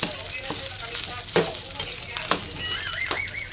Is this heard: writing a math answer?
no